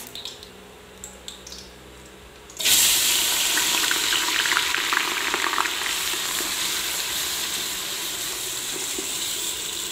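Three finely chopped onions hitting hot oil with cumin, cardamom and spices for a mutton gravy; quiet kitchen sounds give way after a couple of seconds to a sudden loud, steady sizzle that continues to the end.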